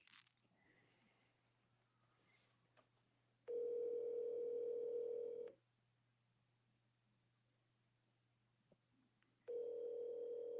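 A phone on speaker gives two long steady dial-tone bursts, each about two seconds, separated by quiet room hum and a few faint clicks; no one speaks.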